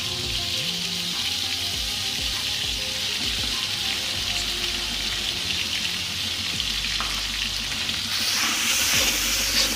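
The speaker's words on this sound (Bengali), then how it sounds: "সিক্রেট মশলা দিয়ে আমরা একটু মিক্সার করে দিব" Chickpea biryani being stirred after a secret spice mix is added, with a steady sizzling, scraping clatter that runs continuously and fairly loud throughout, with no voices.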